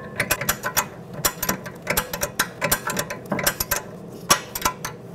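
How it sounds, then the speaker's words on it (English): Rapid ratchet wrench clicking while tightening a brake caliper bolt on a 2011-2014 Hyundai Sonata during a rear brake job, bursts of close metallic clicks in uneven runs with short pauses between strokes. "So I'm just gonna keep going with the wrench until it's pretty much bottomed out"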